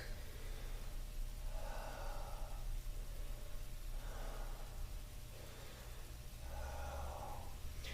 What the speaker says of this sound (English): Bring it into the shoulders for 3 deep breaths.